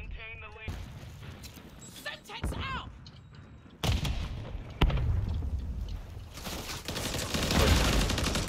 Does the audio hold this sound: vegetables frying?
no